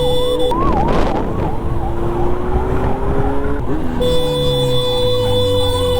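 An ambulance siren wails in busy road traffic, loud and close, its rising and falling tone sweeping continuously before it shifts to a steadier, higher two-tone pattern near the end, with vehicle noise underneath.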